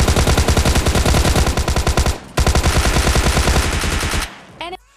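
Rapid automatic gunfire in the mobile shooter PUBG Lite, with loud, close bursts of machine-gun shots in two long strings separated by a short pause, then a brief game tone at the end.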